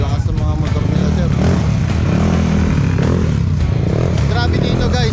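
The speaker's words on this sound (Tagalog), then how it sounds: "Sobrang lakas yung mga motor." Loud motorcycles and tuned scooters roar and rev continuously at a Scooter King 2024 scooter event, engines dense and close, with people talking over the noise throughout.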